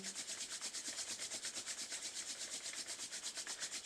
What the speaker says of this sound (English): Rub the palms one more time.